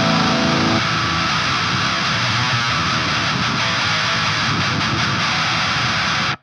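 A high-gain guitar distortion plugin with its phase flipped gives a harsh, noisy, broadband roar. A pitched chord fades into the wash under a second, and the sound holds steady before cutting off abruptly at the end.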